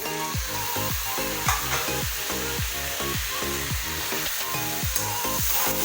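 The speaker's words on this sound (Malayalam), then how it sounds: "തക്കാളി ഇടാൻ പോകുന്നു കേട്ടോ, 5 തക്കാളി." Five tomatoes fry in a pan of oil for an egg curry, a continuous sizzle broken by regular, rhythmic scraping strokes repeating about twice a second.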